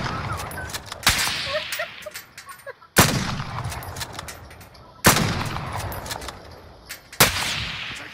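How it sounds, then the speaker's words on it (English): Gunfire in a video game: four sharp, loud shots spaced about two seconds apart, each with a ringing tail, over quieter background clatter and faint distant shots. "they're shooting through the fucking thing, bro"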